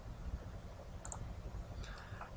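A computer mouse in an AutoCAD drafting session gives two soft, brief clicks a little under a second apart, faint and close in an otherwise quiet room.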